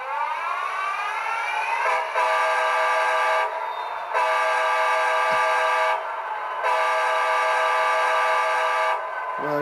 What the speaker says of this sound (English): I just wanted to show you the difference in horns, because they are different horns from the CP to the NS